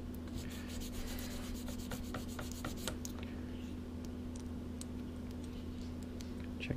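Plastic parts from a 1971 Hemi Cuda model car kit being sanded smooth where they came off the sprue tree, a close, steady scratchy rubbing with quick strokes over a constant low hum.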